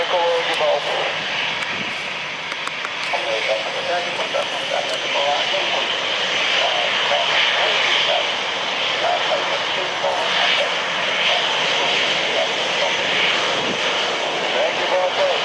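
An Airbus A320 jet airliner taking off from runway 13, a loud, sustained engine roar filling the whole stretch, with radio chatter heard over it.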